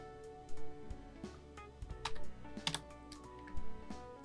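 Computer keyboard tapped during Premiere Pro editing, several soft close clicks and keystrokes scattered over a low steady room hum, no voices.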